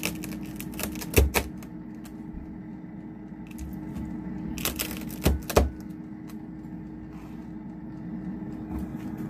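A knife slices scored pork belly into cubes on a cutting board, close, with a few sharp chopping knocks in quick pairs between quieter squishy cuts.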